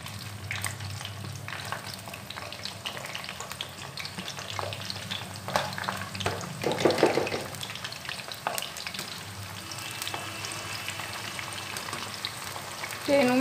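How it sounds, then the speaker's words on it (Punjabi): Capsicum (bell pepper) fries in a pan for a dhaba-style Punjabi mixed vegetable dish, with a steady crackling sizzle throughout. Brief stirring and clattering rise near the middle and again at the end. "ਹੁਣ ਮੈਂ ਸ਼ਿਮਲਾ ਮਿਰਚ ਪਾ ਦੂੰਗੀ।"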